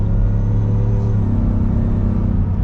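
Shelby F-150 pickup truck engine accelerating off-road: a loud, steady low rumble holds throughout, close and continuous, with no voices over it.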